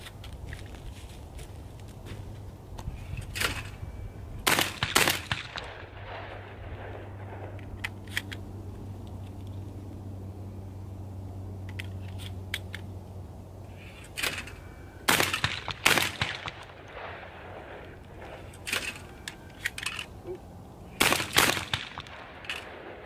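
A Breda Titano 930i shotgun fires at an outdoor range: several sharp, booming shots come in small clusters, some in quick pairs, separated by stretches of quiet ambient noise.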